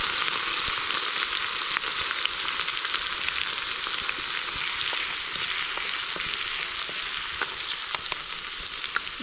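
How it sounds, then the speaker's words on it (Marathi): Cumin seeds, garlic and ginger dropped into hot oil, giving a loud, steady sizzle dotted with small crackles throughout, with no voices. "तर तेल गरम झालंय, मी जिरं थोडंसं टाकून घेते आणि लसूण आणि आलं ठेवलेलं ते टाकून घेते अर्ध."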